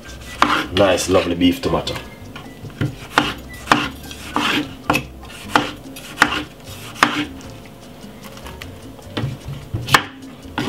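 A knife chops a beef tomato on a cutting board in a kitchen, with repeated close, crisp knocks in an uneven rhythm and a few words spoken between cuts.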